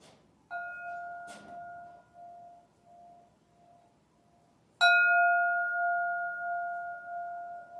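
A meditation bell is struck twice in a quiet room, each strike ringing out as a clear sustained tone. The second strike is louder and hums on until the end, with a faint clink heard in between.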